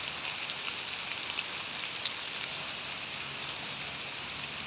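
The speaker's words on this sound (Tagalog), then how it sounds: "Hindi naman hinihinaan ng ulan," Steady heavy rain pours down in a constant hiss, close by and unbroken, with no voices.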